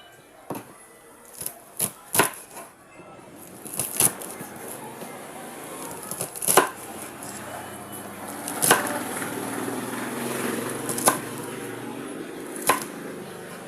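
A knife slicing Baguio beans by hand while cooking, giving a series of sharp, crisp cuts that come irregularly at first and then more steadily, near and fairly quiet.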